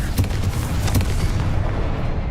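A Confringo blasting spell explodes in Hogwarts Legacy, a couple of loud booming blasts close up with a rumbling low tail fading over a couple of seconds.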